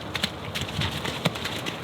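Horses playing and lunging at each other, hooves clip-clopping in quick uneven beats on the ground, moderately distant with steady background noise.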